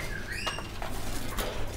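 A Chinese hwamei songbird at a bird market gives a few brief, clear whistled notes, some rising and some falling, over a busy background of chatter and clatter.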